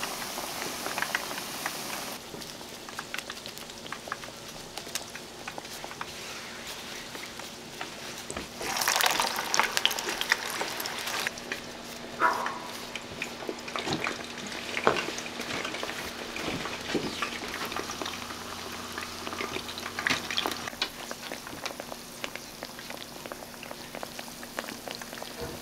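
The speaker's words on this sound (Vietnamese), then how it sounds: "Rồi cứ chiên vàng đều 2 mặt." Homemade Vietnamese fish cakes made from fresh fish fry in oil over low heat, giving a steady, soft crackling sizzle throughout, with brief louder bursts of spattering.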